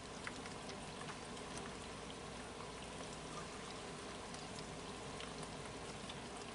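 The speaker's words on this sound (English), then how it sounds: "I've got the air conditioner running in the background, so you can probably hear that real good" Household air conditioner running steadily in a kitchen, a constant broadband whoosh and hum that stays even and fairly faint, with no talk over it.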